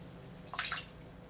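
Lime juice is poured into a cocktail shaker in one quick short splash, a soft close trickle that stops almost at once against a quiet background.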